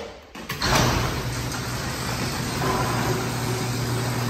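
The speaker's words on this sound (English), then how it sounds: "I'm gonna open this door." A door on a homemade diesel car opens with a short clunk and slide, then a steady broadband rumble and hiss continue for several seconds, close and fairly loud.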